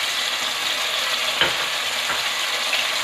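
Chicken and tomato frying in a pan over onions, a steady loud sizzle with a couple of brief scraping stirs, heard alone.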